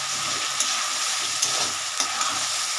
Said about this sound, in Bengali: মশলাটা দিলাম, একটু নাড়া দিই